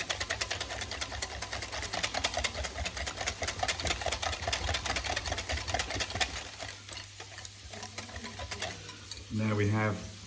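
A whisk beats carbonara sauce in a bowl, rapid rhythmic scraping and clicking that runs steadily for several seconds, close and fairly quiet, then fades out.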